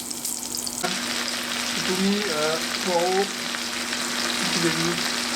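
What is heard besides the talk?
leeks and onions sizzling in a pan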